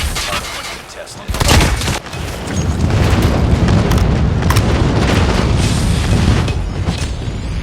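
Loud, continuous rumbling blasts from an airstrike in Call of Duty Mobile, with booming detonations rolling one into another in a dense, sustained barrage that swells after the first second and holds to the end.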